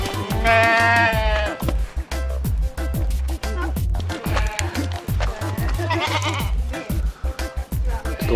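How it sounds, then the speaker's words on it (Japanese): A small goat bleats repeatedly up close in quick wavering cries, while a child's and adults' voices talk over and between the calls. "ちっちゃいヤギさん、こうやって触っていい？"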